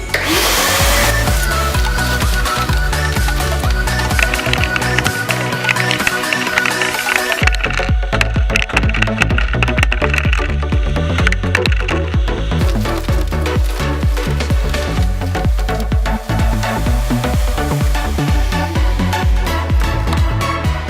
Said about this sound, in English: Let's go ahead and see how fast we can suck them up. So we'll turn on the vacuum.